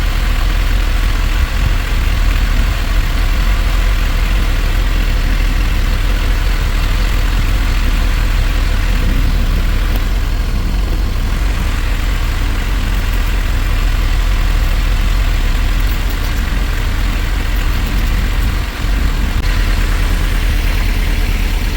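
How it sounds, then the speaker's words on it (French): A Volkswagen Golf 3 engine idling steadily at close range, a constant low rumble with mechanical clatter from the timing system and no change in pace. "faut éteindre le moteur"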